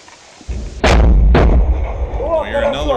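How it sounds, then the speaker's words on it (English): Two heavy explosions go off close by in a war zone, each a sharp loud blast with a long rumbling tail, followed by continuing roar and debris noise. "another explosion close nearby"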